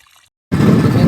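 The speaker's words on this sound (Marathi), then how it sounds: "हे बघा इकडे अमोल भाऊ पाणी भरते." Water pours into containers at a fine, thin water source in a farming village, a steady broadband rush that starts abruptly after a brief quiet moment and continues loud and close.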